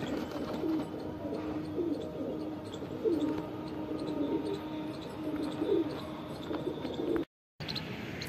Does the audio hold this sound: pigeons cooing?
yes